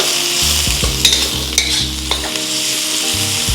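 Half a cup of onions stir-frying in about three tablespoons of hot oil for beef chow fun: a loud, continuous close sizzle broken by repeated scraping strokes of a spatula against the pan.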